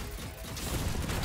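Rapid gunfire from a shooting video game, dense bursts of shots crackling steadily through the short moment with no pauses, loud and close.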